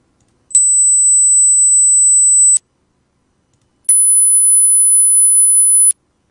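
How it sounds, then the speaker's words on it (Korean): Two piercing high-pitched electronic tones, each a steady pure whine lasting about two seconds, separated by silence; the second is slightly higher. "고주파음은 이런 겁니다."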